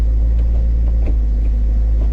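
A BMW E90 M3 drives along after driveshaft and exhaust work, heard from the cabin as a loud, steady low rumble with faint periodic thumps.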